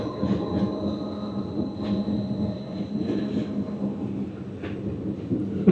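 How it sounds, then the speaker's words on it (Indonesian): A train rolls along the snowy Bernina Pass railway, a steady rumbling run of wheels and carriage noise with faint clicks and a thin high squeal, heard from inside the carriage with no talk. "lewatin kereta yang sama nih."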